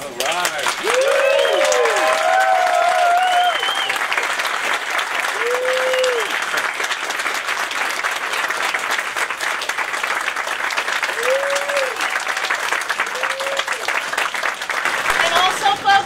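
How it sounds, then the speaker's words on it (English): Loud, sustained applause from a large crowd at a morning sendoff for veterans, continuous throughout, with occasional cheers and whoops rising above the clapping. "send them off this morning with a huge round of applause"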